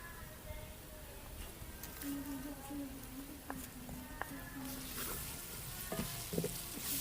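Chopped onions frying in a pan with a steady sizzle, lightly stirred with occasional scrapes and clinks, close and continuous throughout with no voices.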